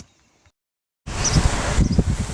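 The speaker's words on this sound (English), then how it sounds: "Very windy today." Wind blows outdoors past bushes, a broad rushing gust that starts abruptly after near silence and stays steady, with rustling and buffeting close to the microphone.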